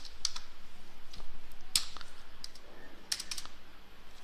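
Fingers tap a computer keyboard while typing a folder name, a steady close patter of soft key clicks with a few sharper, louder key strikes spaced through.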